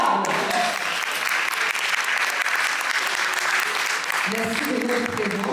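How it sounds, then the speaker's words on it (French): Audience applause for the jury at a pinup contest, a steady dense roar of clapping filling the hall throughout, with a voice starting to speak near the end. "je vous demande d'applaudir notre jury incroyable."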